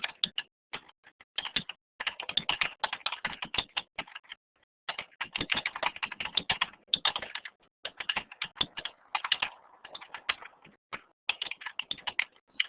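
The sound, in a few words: typing on a computer keyboard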